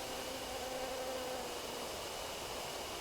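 Bees from a human bee farm in the horror game Death Mark buzz in a steady, dense drone, continuous and fairly close, with no talking over it.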